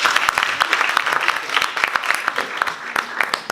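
Audience applause after a conference talk, a steady patter of many hands clapping with sharp individual claps standing out, fairly close and continuous throughout.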